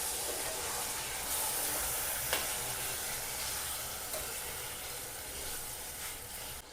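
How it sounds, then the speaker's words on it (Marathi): Prawns sautéing in a pan for a Kolambi Rassa curry give a steady, close hiss and sizzle with occasional stirring clinks, and nobody speaks. "आता आपण याच्यामध्ये हे सगळी कोळंबी टाकून घेणार आहोत। चांगलं परतून घेऊया।"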